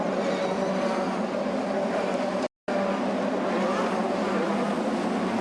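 Champ Car race cars at the 2006 Surfers Paradise street circuit scream out of turn 4 onto the back straight, a continuous loud high-revving engine roar from the field that cuts out for a split second midway.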